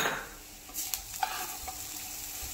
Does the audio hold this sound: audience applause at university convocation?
no